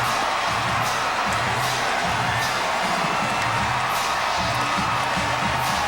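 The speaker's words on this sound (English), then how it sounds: "Biggest cheer of the night." A stadium crowd roars and cheers continuously at a Florida State vs Clemson college football game in 2009, a dense, loud wall of whoops and shouts sustained throughout after a clinching extra point.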